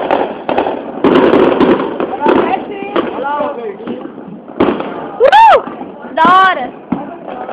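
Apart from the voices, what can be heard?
New Year's Eve fireworks exploding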